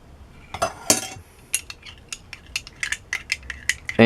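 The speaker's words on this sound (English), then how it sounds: "now I'm going to add a little bit of salt and stir them" Liquid soap being stirred after salt solution is added, a run of sharp clinks and taps from a utensil against a container, irregular and close, with a few louder strikes near the start.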